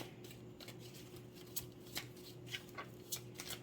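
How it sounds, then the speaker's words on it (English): Large tarot cards being shuffled, a quiet close series of soft riffling flicks and slaps in irregular bursts over a steady faint background hum. "Maybe if I shuffle them this way."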